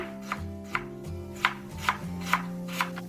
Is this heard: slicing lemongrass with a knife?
yes